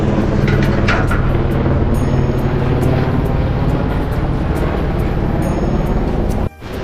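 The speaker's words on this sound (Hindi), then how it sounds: "ये हेलीकॉप्टर जा रहा है, ये लोग हेलीकॉप्टर से आते हैं खंगरिया।" A helicopter passes over a mountain trail near Ghangaria on the way to Hemkund Sahib, a loud, steady rotor-and-engine drone that fills the whole stretch and cuts off abruptly near the end.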